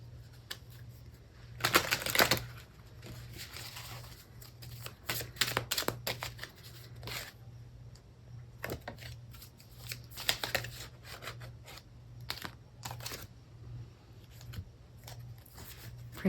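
Oracle cards shuffled by hand in close, intermittent riffling bursts, some sharp and loud and others softer, over a steady low electrical hum with no talking.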